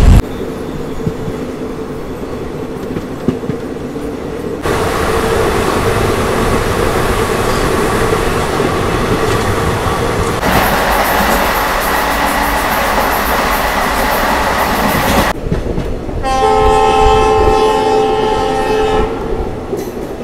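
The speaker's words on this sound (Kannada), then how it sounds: "Hubballi Solapur passenger train crossing." Hubballi–Solapur passenger train crossing near a railway station in Karnataka, a loud rumbling pass with clattering wheels, followed by a long sustained horn blast near the end.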